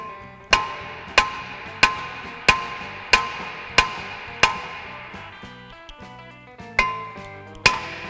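A heavy hammer strikes a rusted brake rotor to break it free from the hub, about a dozen loud ringing metallic blows in a steady rhythm, each with a short clanging decay.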